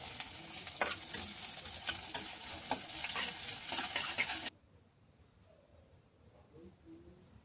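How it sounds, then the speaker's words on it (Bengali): Chopped onions frying on low-medium heat as the base of a Bengali chicken kosha, a steady sizzle with stirring clicks for about four and a half seconds before it cuts to near silence. "পেঁয়াজটা এবার দিয়ে দেবো। দিয়ে হালকা লো মিডিয়ামে ভেজে নেবো।"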